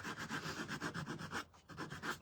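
Close, steady back-and-forth strokes of sandpaper on a wooden pilgrim shelf sitter, about a dozen quick rhythmic rubs with a brief pause midway, heard alone without talking.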